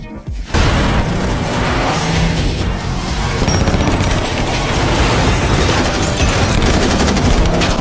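Dense, continuous gunfire and booming explosions from a dockside action shootout in The A-Team, with cars being blown up, sustained and loud throughout with no pauses.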